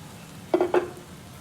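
Chicken and tinda (round gourd) fry in a pan over a mud oven, with two brief, close stirring scrapes against a soft, steady sizzle.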